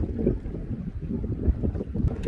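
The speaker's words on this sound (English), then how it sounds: "it's a really windy day, so if all you hear is wind, I apologize" Strong wind gusts batter the microphone outdoors at Oologah lake during a fishing trip, a continuous low buffeting roar with rising and falling bursts and no speech.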